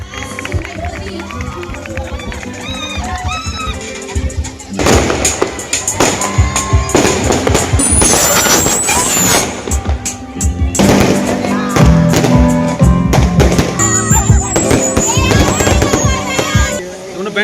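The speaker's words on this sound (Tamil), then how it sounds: "இதைத் தொடர்ந்து அங்கு கண்கவர் வான வேடிக்கைகள் நிகழ்த்தப்பட்டன" Fireworks crackle and pop in dense bursts at a hotel Christmas tree lighting event, with crowd noise and voices in between.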